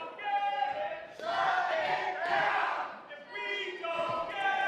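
Crowd at a city council meeting being riled up, a loud mass of shouting voices rising and falling in a few surging waves, heard somewhat distant in the room.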